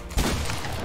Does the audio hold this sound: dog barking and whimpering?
no